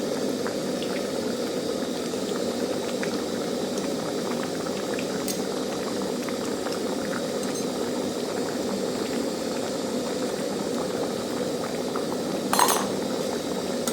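A pot of curry with pumpkin simmers in a steady, close bubbling boil, with a brief clink of a utensil against the pot near the end and no talking.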